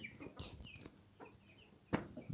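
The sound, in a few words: chickens clucking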